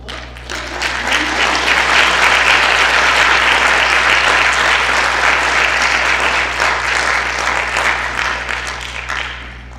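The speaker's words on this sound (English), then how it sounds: "we're going to applaud Courtney" Audience at an academic awards night applauding a student: dense, sustained clapping from a large crowd, loud and even throughout, fading slightly at the end, with no talk.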